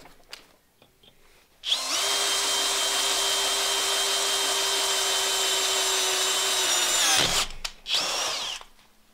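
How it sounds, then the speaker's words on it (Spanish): A cordless drill set to slow speed bores into oiled metal: a loud, close, steady whine runs for about five and a half seconds, cuts off, then returns in one short burst, with no one speaking. "Ahora voy a pasar a una broca de metal más grande para llegar a los 10 milímetros"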